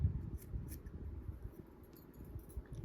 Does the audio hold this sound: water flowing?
no